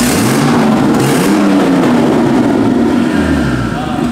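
BMW with a 533 hp engine, a loud, close engine drone with rising and falling revs, steady and strong across the whole stretch.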